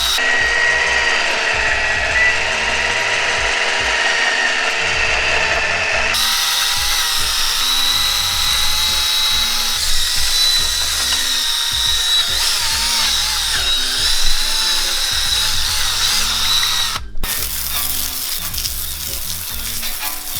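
A power drill whirs steadily for a long stretch, its high mechanical whine shifting pitch as it works, loud and close with no talking.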